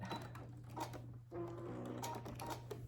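A sewing machine stitching across the end of a quilt binding, a steady mechanical hum with quick rhythmic needle ticks, close and fairly quiet, with no talking.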